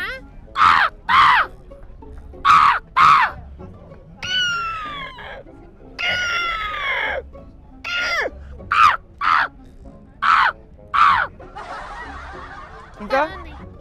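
A mimicry artist voices a series of crow caws, harsh, clipped calls in short bursts and a few longer drawn-out cries, repeated over about a dozen seconds in an irregular rhythm.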